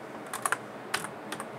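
A computer keyboard is typed on to enter a flash memory chip's part number while flashing a BIOS: a few quick, close keystroke clicks in two short bursts, with no one talking.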